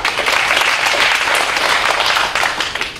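Sustained audience applause at a Taipei talk comparing Taipei and Seoul, as guest speaker Kim Sang-ho is welcomed to the stage; dense, steady clapping from a crowd throughout, with no speech over it.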